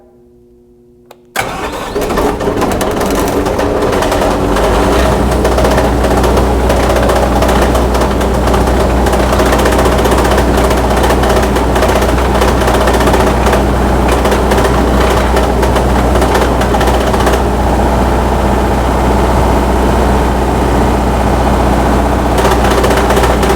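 A cold diesel engine cranks and catches after a moment of quiet, then revs hard and stays loud and close as it runs rough, a turbocharger apparently feeding it oil.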